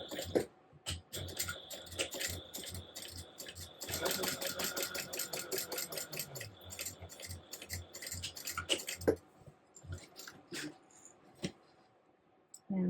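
A home sewing machine top stitches 1/8 inch from the edge at a long stitch length, its needle chattering in rapid even bursts close by, stopping and restarting, with light clicks and handling between runs.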